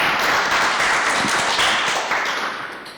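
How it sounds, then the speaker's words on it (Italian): Audience at the KINÉO award press conference applauding Jean Gilly, a short burst of clapping that fades gradually toward the end. "un bel applauso anche per il nostro amico Jean"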